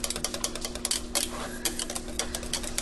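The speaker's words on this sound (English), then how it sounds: "Whisk that in there." A whisk scrapes and taps rapidly against a pan, stirring packaged sauce mix into liquid for ham divan on a stovetop burner that is switched off, a steady close rattling rhythm with brighter clicks.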